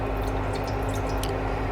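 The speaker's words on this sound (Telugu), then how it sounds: "ఒక 250 ml ఆఫ్ వాటర్ అయితే వేసుకుంటున్నానండి" About 250 ml of water is poured into a cooking pot on an induction stove while preparing homemade kurkure dough, giving a steady, close rushing and dripping liquid sound with no voices.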